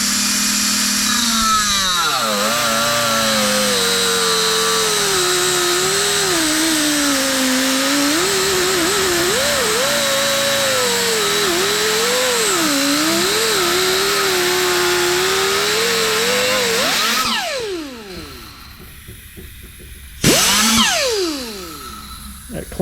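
A cut-off tool slicing through braided PTFE fuel line clamped near a vise, a loud sustained high whine that wavers in pitch as it bites, then spins down and briefly revs again.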